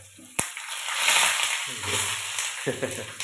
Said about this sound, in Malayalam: വെളിച്ചെണ്ണ ഏകദേശം ചൂടായി ആദ്യം കടുക് കടുക് പൊട്ടട്ട് പച്ചമുളക് പച്ചമുളക്